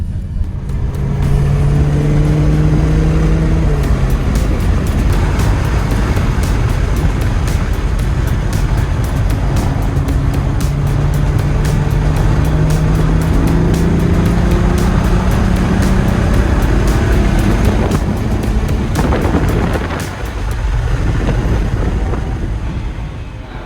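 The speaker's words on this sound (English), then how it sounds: "I get to ride in an F12 Ferrari around the track." A Ferrari F12 heard from inside while being driven around a track, its engine loud and close, pitch rising and falling through repeated accelerations and gear changes, with a brief dip near the end.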